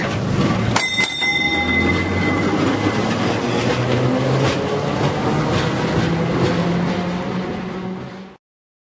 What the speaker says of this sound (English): Tram.